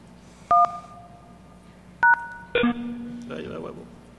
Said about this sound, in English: going to call the PBX using a soft phone